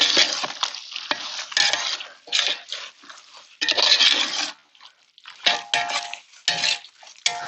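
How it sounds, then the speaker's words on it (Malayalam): Mushroom chicken biryani with oyster mushrooms is stirred in a pot, bursts of scraping and clattering utensil strokes against metal with a light sizzle, separated by short pauses, close by and without talk. "നന്നായിട്ട് ഇളക്കി കൊടുക്കാം."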